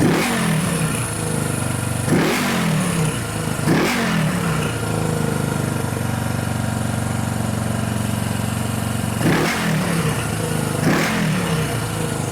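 A 1974 Honda CB360 motorcycle engine with freshly synced carburetors idling steadily, broken by several sharp throttle revs that flare and settle back, loud and close with no talk.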